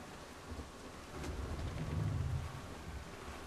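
Storm at sea in the video game Assassin's Creed IV: faint steady rain and wind with a low rolling thunder-like swell peaking midway, no voices.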